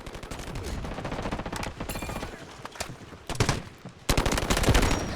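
Rapid automatic AK-12 rifle fire in the shooter game Delta Force, loud bursts of dense crackling shots with brief pauses between volleys, plus other game noise.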